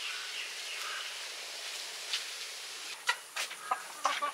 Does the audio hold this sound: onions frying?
no